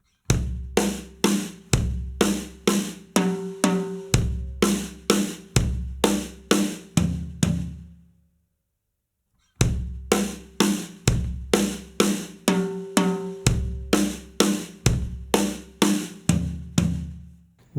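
Beginner drum fill on a kit, kick drum alternating with right-left snare strokes in a quick, even repeating pattern, played twice with a short pause between, close and crisp, no talking.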